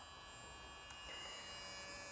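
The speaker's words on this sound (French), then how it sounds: "elle fait un petit bruit de moteur" The small electric motor of a battery-powered shower pump whirs with a steady, faint buzzing hum, continuous and close by.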